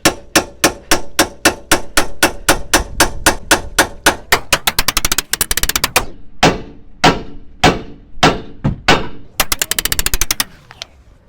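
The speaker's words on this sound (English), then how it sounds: "I'm just simply going to hammer a ball joint splitter in" Rapid metallic hammer blows on a ball joint splitter during lower control arm work on a 2014 Ford Fiesta ring out, loud and close, first in a fast steady series, then in slower separated strikes with brief pauses.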